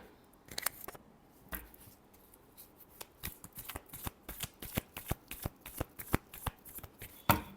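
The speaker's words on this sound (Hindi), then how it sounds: "Last shuffle." A deck of reading cards being shuffled by hand, close and crisp, with irregular riffles and flicks that speed into a rapid series of snappy card slaps before a final louder snap.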